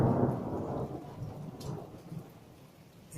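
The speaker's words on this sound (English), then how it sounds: "it's still raining quite heavily" Heavy rain pours down steadily during a thunderstorm, a dense hiss of falling water with low rumbling thunder underneath that slowly fades, heard alone without voices.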